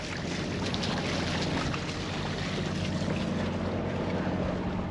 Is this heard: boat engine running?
yes